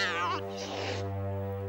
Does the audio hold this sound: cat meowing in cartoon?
yes